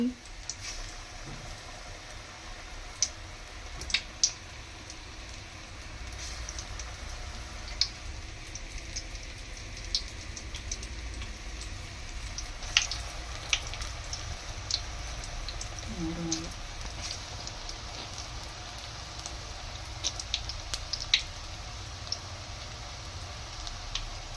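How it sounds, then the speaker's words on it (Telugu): Small balls of gram flour (besan) dough frying in hot oil for a snack, giving a steady soft bubbling hiss dotted with faint ticks and pops that carries on without a break. "ఆ పిండిని చిన్న ఉండలుగా తీసుకొని ఆయిల్లో వేసుకోవడమే"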